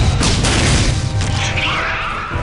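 A stun shot fired as secondary weapon fire in Aliens vs Predator 2, a loud booming blast with a dense crackling burst that trails off into a hissing decay.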